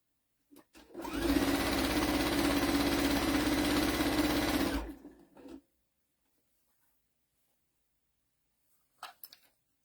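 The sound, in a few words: sewing machine stitching around a basket towel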